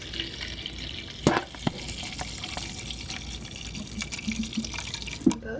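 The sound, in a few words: water poured into a cup with coconut milk for hot chocolate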